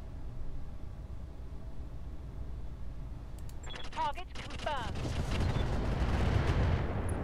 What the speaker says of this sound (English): Let's just fire on this guy.